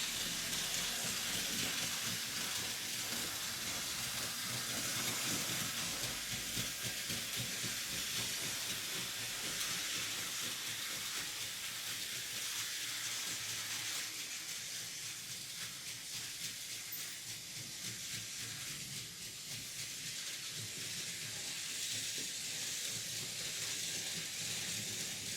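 A Märklin 3133 SNCB/NMBS HLD 54 model locomotive, running on about 5 to 6 volts, hums and rattles along a track with a steady hissing background, fairly quiet and continuous.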